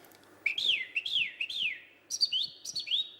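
A song thrush sings clear, high whistled phrases, with short rising and falling notes repeated in quick bursts and brief pauses between them.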